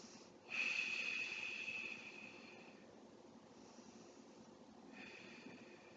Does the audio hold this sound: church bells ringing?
no